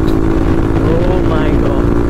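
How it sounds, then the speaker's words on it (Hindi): A Bajaj Pulsar NS200 motorcycle exhaust drones loudly and steadily while it rides, a continuous near engine roar with a voice talking over it. "एनएस 200 का ये साउंड मुझे एग्जॉस्ट से"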